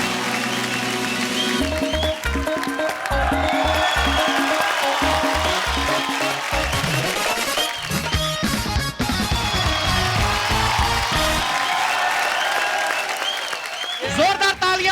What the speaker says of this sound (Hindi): तो आप सबकी जोरदार तालियों के बीच बुलाना चाहूंगा